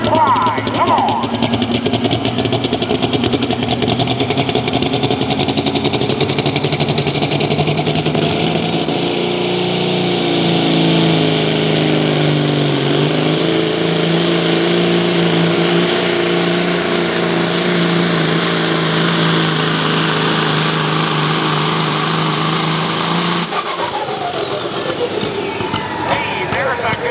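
Engine of a 1974 Kenworth pulling truck roaring continuously at a truck and tractor pull in Coshocton, Ohio, loud and sustained with rising and falling pitch, an announcer talking over it.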